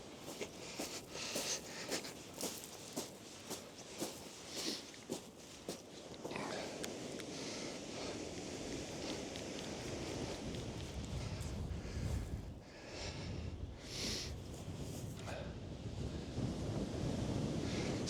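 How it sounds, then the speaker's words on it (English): Relentless wind on Blackpool Sands beach, buffeting the microphone with a steady rushing roar and low gusty rumble, with faint surf underneath and occasional handling bumps. "That wind is relentless today."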